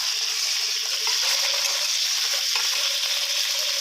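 Large pieces of chicken sizzle loudly in a hot pan as they are added and stir-fried, a constant crackling hiss with occasional scrapes and shifts.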